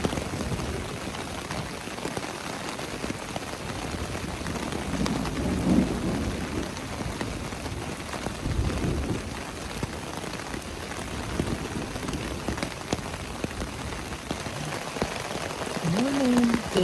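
Steady rain patters and hisses throughout, a continuous broadband wash with faint low rumbles beneath, no voices.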